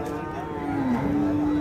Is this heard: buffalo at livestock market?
yes